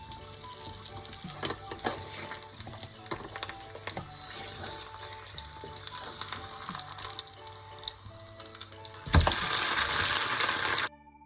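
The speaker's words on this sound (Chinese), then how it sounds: "再煎10分钟" A potato and cumin pancake fries over low heat in a pan, with a steady close sizzle and faint crackles throughout, then a sudden louder rush of sizzling near the end before it cuts off.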